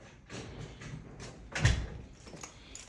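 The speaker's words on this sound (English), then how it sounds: "You can lock the door." A door is pushed shut and locked during a water disconnect job, with a soft sliding rub and then one firm thud near the middle. Faint clicks follow, all at close range and otherwise quiet.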